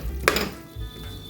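A lid comes off a cooking pot of mutton and gongura curry with one clear metallic clank, followed by faint rattling and a low rumble.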